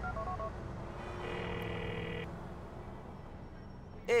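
A mobile phone in Grand Theft Auto IV dials a call, giving faint tonal beeps and a sustained ringing tone over low in-game background noise, ending with a short electronic blip.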